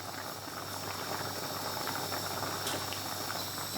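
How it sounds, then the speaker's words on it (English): Caribbean chicken, noodle and sweetcorn soup with dumplings boils steadily in a pot, giving a continuous soft bubbling hiss with no voices. "That should be bubbling along."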